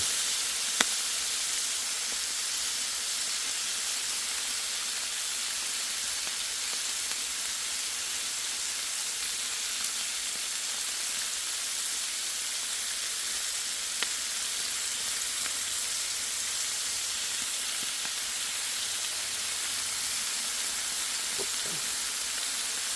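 Sugardale bacon frying in a pan for fried rice, rendering its fat with a constant dense sizzle and hiss, steady and close throughout with a few faint clinks.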